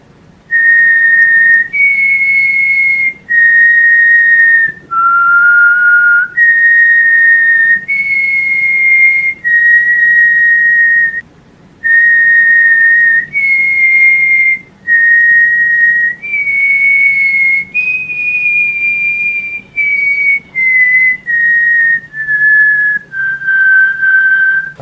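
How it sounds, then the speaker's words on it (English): Someone whistles a slow, eerie tune in a basement: long, sustained single notes one after another with short gaps, loud and clear against a quiet background. "this version was being whistled and slowed down to maximum creep level"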